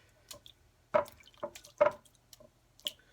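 Faint, close water drips and small splashes while fresh homemade butter is rinsed, a handful of irregular drops falling in a quiet room.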